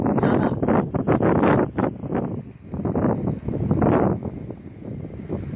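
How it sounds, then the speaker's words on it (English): Strong coastal wind at Victor Harbor, South Australia, buffeting the microphone in heavy, uneven gusts that rise and fall over a low roar. "It's really windy."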